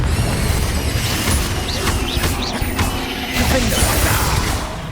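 Blasting Confringo spell impacts from a Hogwarts Legacy battle at a goblin encampment, with crashing hits, whooshes and booms stacked over a dense, continuous layer of combat noise and music.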